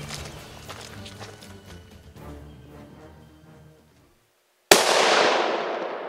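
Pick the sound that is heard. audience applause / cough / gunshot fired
gunshot fired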